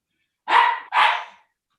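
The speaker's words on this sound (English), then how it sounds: "my puppy's barking" A puppy barks twice in quick succession, close and fairly loud, each bark a sharp burst that trails off, with quiet before and after.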